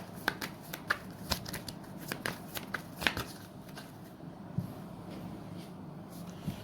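A tarot deck is shuffled up close, a run of crisp riffling snaps and flicks in quick irregular bursts, then quieter card rustling as the shuffle settles, with no talking.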